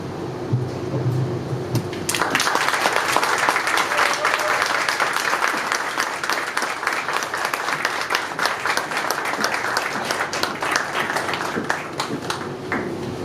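Audience applause breaks out after a keynote address at an Urban League event, a brief murmur first, then steady, dense clapping from a sizable crowd that holds at full strength to the end.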